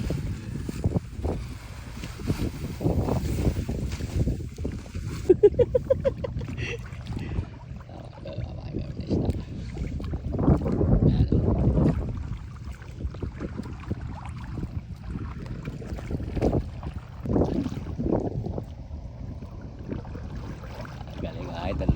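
Strong wind gusts buffet the microphone during a small-boat ride out to feed fish. The uneven roaring swells and fades over water noise, with voices talking intermittently.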